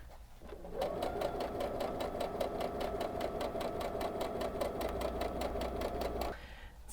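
Sewing machine stitching fabric strips end to end with a mitered seam for a dress, a steady fast mechanical whir running for about six seconds before stopping abruptly.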